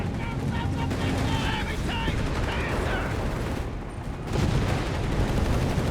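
Gunfire and explosions from a Company of Heroes 3 battle between Afrika Korps and US Forces, a steady dense clatter of shots and booms throughout, with a louder burst near the end.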